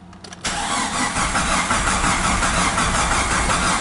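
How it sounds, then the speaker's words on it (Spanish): A Jeep Cherokee XJ engine (1998–2001) with a suspected fuel pump fault cranks steadily after a few short clicks, a loud continuous mechanical churn close to the engine, never catching. "Carro no enciende."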